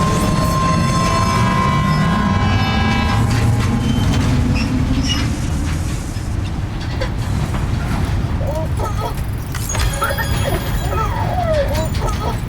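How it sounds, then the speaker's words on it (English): Monorail running in the video game Death Stranding 2, a steady mechanical rail rumble with whining tones that eases off midway, while people talk over it. "Start the monorail."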